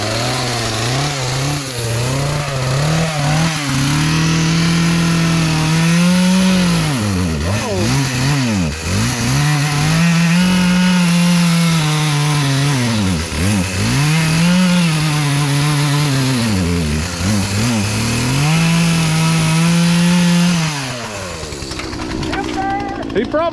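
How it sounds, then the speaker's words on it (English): A chainsaw runs loudly nearby, its engine surging up and down again and again before easing off at the end. "We heard the chainsaw."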